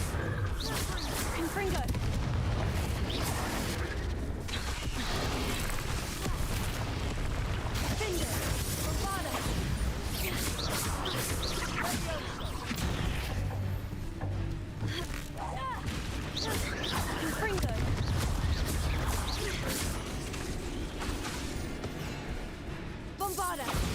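The Confringo blasting spell in the video game Hogwarts Legacy bursts repeatedly in a busy fight, with a string of booming explosions and whooshes under frequent voices.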